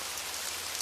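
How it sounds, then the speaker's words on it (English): Steady rain beats against windows in an unbroken, even wash of patter that fills the short stretch with no voices. "The rain hammered against the library's windows with a sudden ferocity that made me jump."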